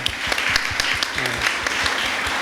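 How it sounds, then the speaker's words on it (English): A conference audience at a CEO event in Clark breaks into steady applause, dense clapping filling the room with a faint voice underneath near the end. "can we just do a quick round of applause for Richard and Rebecca?"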